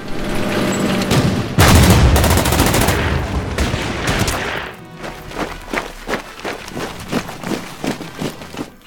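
Heavy weapons team gunfire in the Order of Battle strategy game: a dense, loud roar of shots and booms, then a rapid run of separate sharp cracks firing in quick succession.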